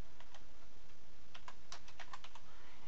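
Someone typing a command on a computer keyboard, with a few scattered key taps followed by a quick cluster of crisp clicks, close and moderately loud over faint room hiss, with no voices.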